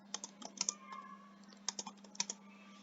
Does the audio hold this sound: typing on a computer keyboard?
yes